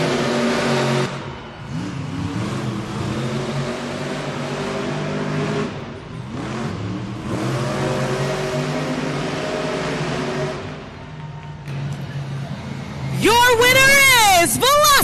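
Monster Jam monster trucks rev and race in an arena in Fresno, California. Loud engine roars rise and fall across the run, with a sharp revving sweep near the end, under constant announcer talk and crowd noise.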